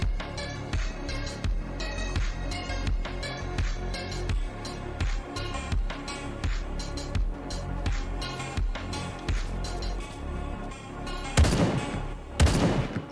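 Rapid bursts of gunfire in the survival video game Unturned, with dense, repeated shots throughout and a couple of louder, closer blasts near the end.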